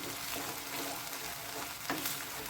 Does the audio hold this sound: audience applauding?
no